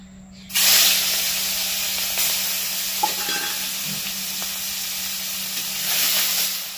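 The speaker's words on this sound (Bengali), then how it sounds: "এবার এই তেলের মধ্যে চিংড়ি মাছটাকে একটু ভেজে নেব, একটু লবণ হলুদ দিয়ে ভাজছি" Shrimp fry in hot oil with salt and turmeric in a home kitchen, making a loud, steady sizzling hiss that begins abruptly and holds throughout, with a brief clink of a utensil stirring partway through and no talking.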